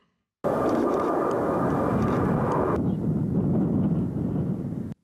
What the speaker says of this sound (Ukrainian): Два винищувачі Су-27 з Миргорода та Мілітопольський транспортник Іл-76 заходять на посадку